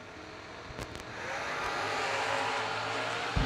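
Drag race launch of a wheel-standing small-block Camaro against a 5th-gen Camaro: a loud, sustained engine roar that swells and holds down the strip, with sharp cracks near the start.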